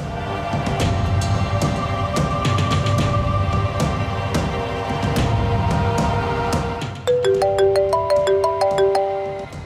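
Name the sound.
phone call ringing tone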